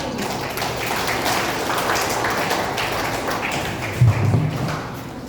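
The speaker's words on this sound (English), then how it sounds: "Clap." Students in a school classroom clap together during a road-safety quiz, a sustained rattle of many hands with a brief burst of thumps near the end, no voices over it.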